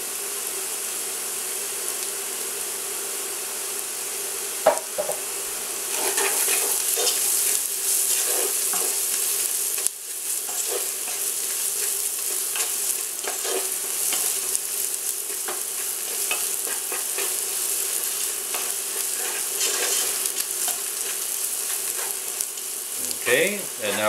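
Ingredients for Greek spanakorizo sautéing in a pan, a loud continuous sizzle with repeated stirring scrapes throughout.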